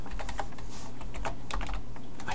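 Typing on a computer keyboard, a steady run of close, crisp key clicks lasting a couple of seconds with no talking.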